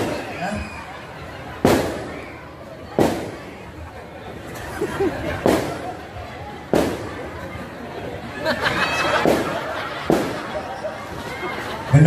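Firecrackers bang again and again, sharp loud cracks at irregular intervals of a second or two, over a steady murmur of crowd chatter and talk.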